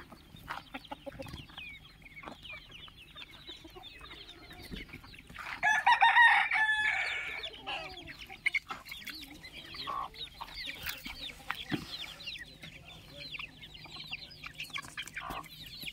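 Chickens on a farm cluck steadily in the background while a rooster crows once loudly and close, with scattered scratching and small knocks around them.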